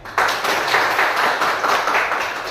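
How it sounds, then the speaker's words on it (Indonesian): A classroom of students claps together, a sudden burst of brisk, overlapping hand claps that swells and pulses steadily for a couple of seconds, fairly close and loud with no talking. "Tepuk tangan semuanya"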